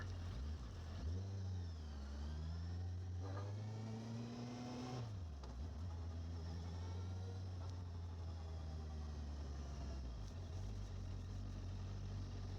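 A four-cylinder Benda LFC 700 motorcycle engine runs steadily nearby in traffic, its pitch rising and falling as it revs and settles back to a smooth idle.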